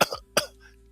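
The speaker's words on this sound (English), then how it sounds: "Cough, cough." Two quick, sharp coughs sound close by, one right after the other.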